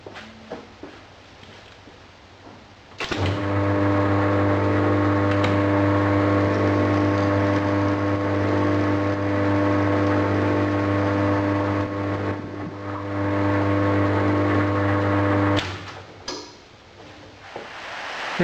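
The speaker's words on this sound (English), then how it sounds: "I'm ready now to cut the vise nut" A lathe cutting a six-threads-per-inch thread in a cast iron vise nut gives a steady, loud machine hum with a strong low drone, running for about twelve seconds before stopping.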